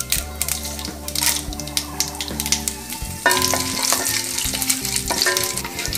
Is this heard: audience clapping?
no